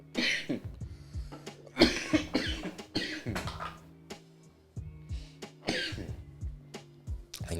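A person coughs repeatedly in harsh, clustered bursts after smoking Delta-8 moonrocks from a bowl, close up, with short pauses and throat-clearing between fits.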